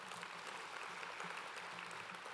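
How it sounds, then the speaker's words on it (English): Audience applause at a business summit, a short stretch of steady clapping heard faint and distant. "give her a round of applause"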